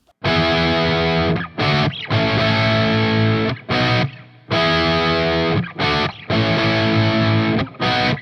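Distorted electric guitar strumming full chords in bursts, with short choppy gaps between strums, loud and upfront with no voices.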